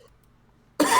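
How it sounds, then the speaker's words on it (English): A single harsh cough bursts out after a near-silent stretch, loud and close, filling the last fifth of the moment. "I'm coughing and it hurts like a bitch"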